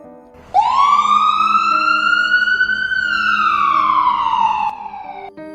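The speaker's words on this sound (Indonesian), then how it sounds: "Mobil ambulan mulai berjalan dengan suara sirine yang memecah kesunyian malam." An ambulance siren at night, a single loud wail that sweeps up over a few seconds, holds high and steady, then slides down and fades near the end.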